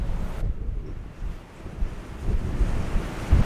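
Gale-force wind roars across a microphone on the cliffs of Cornwall's north coast, with surf breaking below in steady rumbling waves and gusty buffeting that swells and eases throughout.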